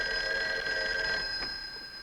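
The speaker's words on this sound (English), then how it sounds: "Hey, that's your phone" A cartoon telephone bell rings with a bright, sustained metallic trill that holds steady, then fades out.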